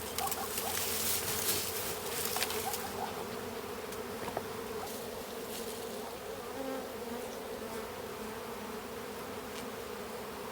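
Honey bees at an open hive during an early spring inspection, a dense steady buzzing of many wings swarming close by, continuous throughout with a few brief rustles and taps, no voices.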